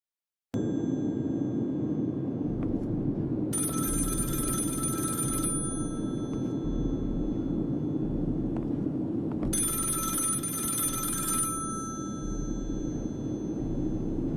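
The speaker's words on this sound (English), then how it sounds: "and we hear the phone ringing." A telephone rings in two long bursts separated by a pause, over a low, steady ambient hum, in a video game.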